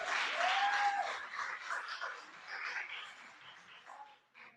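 A church congregation applauds during a worship service, a dense wash of clapping that swells loudly at the start and gradually thins toward the end, with a brief whistle-like tone near the beginning.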